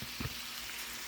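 Turkey and beef kielbasa stir-frying in a pan, a steady close sizzle with a brief clatter of stirring near the start, no voices.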